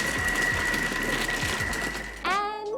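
A Thermomix runs steadily, its motor whirring as it mixes dark chocolate chips and macadamia nuts into cookie dough, then the pitch rises sharply near the end as it speeds up.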